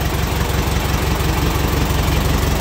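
An old diesel tractor engine, an MWM or Perkins unit on a farm tractor, idles steadily with a continuous low, loud chugging rumble that persists throughout.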